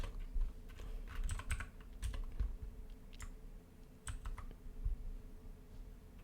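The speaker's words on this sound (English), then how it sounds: "Wow, I'm pressing all the wrong keys." Fast bursts of clicking keystrokes on a computer keyboard, with uneven rhythm and brief gaps, close up over a low background rumble, with no one speaking.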